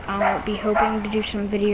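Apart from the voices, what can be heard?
dog Rosie barking in the background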